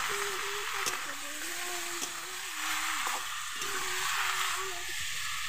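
Chopped Malabar spinach fries in a pan with a steady, close hiss and sizzle, while a low voice hums or murmurs underneath and an occasional utensil tap cuts through.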